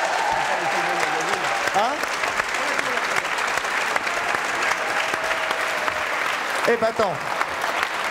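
Studio audience applauds Mr. Seligman on a French television variety show, steady clapping running throughout while someone speaks briefly over it.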